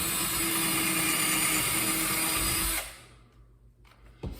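A power drill bores into a garage wall, a loud, steady whine with grinding for nearly three seconds before it cuts off, leaving quiet room noise and a brief knock at the end.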